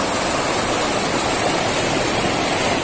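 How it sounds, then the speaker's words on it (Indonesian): A small waterfall at Sendang Air Terjun 7 Warna near Pacet, Mojokerto, Indonesia, pours steadily, a dense, even rush of falling water filling the scene with constant hiss and no pauses. "Seperti air terjun mini."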